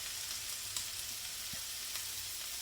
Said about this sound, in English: This I'm just reheating in a regular non-stick skillet.